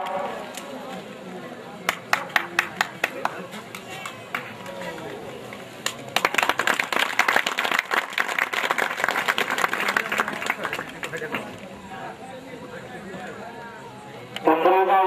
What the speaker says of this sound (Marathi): नाट्य रसिकांना विनंती आपण त्यांचं जोरदार टाळ्या वाजवून स्वागत करावं.